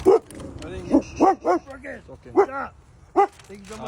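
A homeless man's dog gives several short barks and yips at an outdoor street handout, each bark brief and fairly close, scattered between bouts of a person talking.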